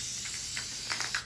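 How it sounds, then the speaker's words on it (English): An aerosol can of spray baste fires quick hissing bursts onto a quilt during basting, several short sprays close up against a steady faint hiss. "I'm going to take my spray baste"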